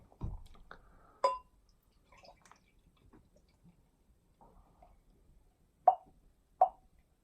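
A bottle of Shipyard Pumpkinhead pumpkin beer from Maine is opened and handled: a few scattered clinks and small taps, then two sharp, close pops or clicks near the end, all quiet and sparse with no talk.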